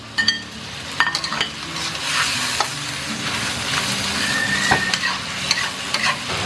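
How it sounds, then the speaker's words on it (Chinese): Pork intestines stir-fry in a generous amount of hot oil with red chili peppers and dried chilies, a steady loud sizzle broken by repeated scraping clinks of a spatula in the wok, close up with no talk. "爆香以后我们就把大肠放上去，给它稍微炒一炒。"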